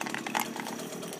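A new Husqvarna 326LS string trimmer runs on its small two-stroke engine at its first start, a brief, steady buzzing drone heard fairly close without talk.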